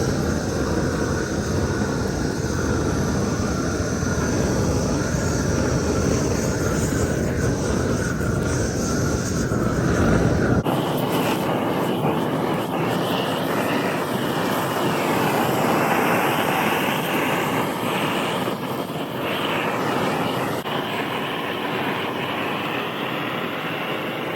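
A lit handheld gas torch roars steadily and loudly throughout, its tone shifting partway as the gas is turned up, with no voices.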